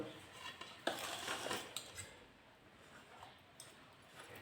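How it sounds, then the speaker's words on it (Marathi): Hung curd (chakka) is beaten in a bowl for shrikhand, making faint, uneven scraping and soft clinks of utensil against bowl, close by and quiet. "असं छान फेटून घ्यायचं"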